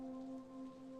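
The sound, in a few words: rain falling in Steins;Gate 0 video game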